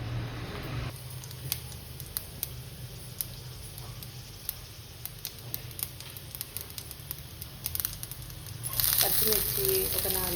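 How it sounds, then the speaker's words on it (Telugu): Tempering spices sizzling in a pan for black-eyed pea curry, a steady crackling fry with scattered sharp pops, ending in a louder burst of sizzle near the close. "దానికోసం పోపు వేసుకున్నా."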